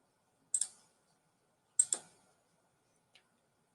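Sparse mouse clicks opening a file in Microsoft Word 2019, two quick double-click pairs and a faint single tick spaced apart in a quiet room, close and crisp.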